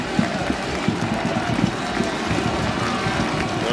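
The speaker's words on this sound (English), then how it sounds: "The crowd rises here in Kingston" The crowd at a Queen's vs Western university football conference final in Kingston roars and applauds, with dense, steady stadium noise throughout and a commentator's voice faintly under it.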